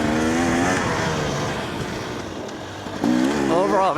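A dirt bike's engine revving and easing off in short throttle bursts while sliding along a slick dry single-track trail, close and loud, the pitch rising and falling, dipping in the middle then picking up again.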